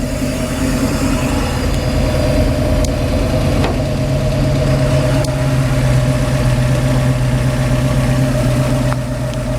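A hot rod pickup's Blueprint 347 Ford roller cam V8 with Phytech fuel injection and equal-length ceramic coated headers idles steadily and loudly, a continuous low rumble with a slightly lumpy pulse, close by and without talk.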